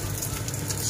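Washed, dried radish being stir-fried with meat in an oiled pan, producing a dense, close crackling sizzle that continues without a break through the brief moment.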